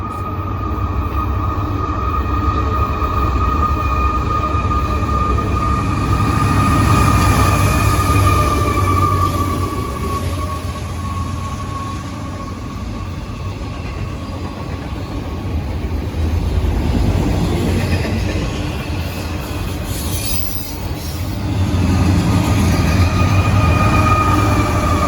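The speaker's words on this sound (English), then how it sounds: "here's NS310 going very slow" A Norfolk Southern freight train rolls past very slowly, close by, with a steady heavy rumble of wheels and cars, faint metallic squeals and a brief horn-like tone, continuous for the whole stretch.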